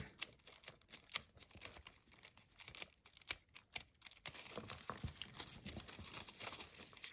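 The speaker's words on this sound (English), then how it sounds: "I just got some foil, gold foil" Gold nail-art foil being pressed and handled, giving soft crinkling and light tearing sounds that come in scattered bursts early and grow denser and steadier toward the end, close and quiet with no talking.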